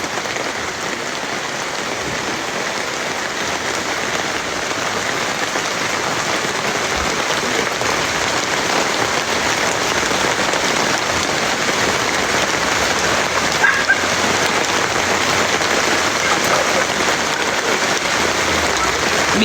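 Heavy rain falls steadily at White River in Ocho Rios, a dense hiss of drops pattering on a surface that stays constant and loud from start to finish.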